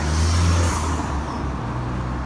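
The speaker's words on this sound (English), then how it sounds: "sorry for the cars, sorry for the traffic" Steady roar of cars and heavier vehicles passing along a road beside the Foundry Arms pub in Blackburn, loud and continuous with a deep engine rumble fading off after the first second, no talk.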